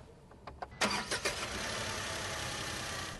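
A 2025 Tata Tigor iCNG sedan starts up: a few quick starter clicks lead into a brief crank, then the engine catches and settles into an even, quiet idle, with no talk over it.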